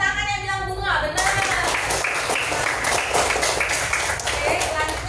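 Children clap together in a classroom, a brisk burst of many small hands right after a voice speaks, continuing steadily to the end with talk over the top.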